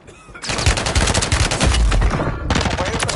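Loud, rapid automatic gunfire in Call of Duty: Warzone at Fortune's Keep rattles almost continuously, with a brief pause before another sustained burst.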